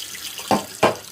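Tap water running into a bowl while rice is rinsed in a home kitchen, a steady close splashing hiss with two brief louder surges as the water is moved.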